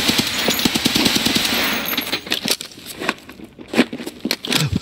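Rapid bursts of in-game gunfire punch through a wall, with clustered sharp cracks at first giving way to sparser, irregular shots and impacts amid game noise.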